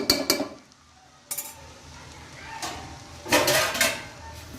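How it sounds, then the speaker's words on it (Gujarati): A cooking pot of mung bean pulao gets covered, with a few sharp metal clatters of the lid and pot spread over several seconds, close by and fairly quiet between knocks. "હવે આને આપણે ઢકીને ધીમા ગેસે 2 થી 3 મિનિટ સુધીને થવા દઈએ"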